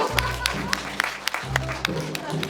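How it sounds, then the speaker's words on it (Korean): A small audience at a shaman's lecture event in Busan gives scattered, sparse claps, with a handful of distinct hand slaps spaced irregularly under ongoing talking. "박수 주세요"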